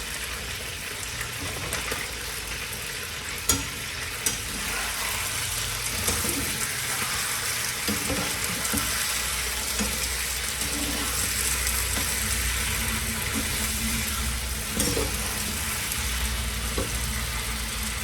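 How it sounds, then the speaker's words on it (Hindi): Steady crackling sizzle of chicken frying in hot oil with ginger-garlic paste, continuous throughout with a few faint clinks of a utensil against the pan. "चिकन को रंग बदलने देंगे, तब तक ये इसी ऑयल में पकता रहेगा।"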